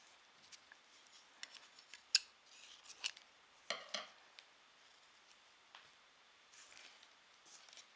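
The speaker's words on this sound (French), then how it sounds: "donc on va pouvoir couper le fil bleu." Scissors cutting blue yarn after a row of jacquard knitting: a few sharp metallic snips and clicks scattered over a quiet background, close and crisp, with soft handling rustles between the cuts.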